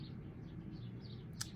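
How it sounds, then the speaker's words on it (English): Birds returning to their nest at the end of the day chirp faintly in the distance in a string of small repeated calls, with one brighter chirp near the end over a low indoor hum. "I don't know if you can hear all the birds."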